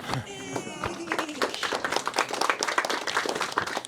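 Applause from an audience after a talk, a dense run of close hand claps that starts thin and swells to a steady, lively patter through to the end.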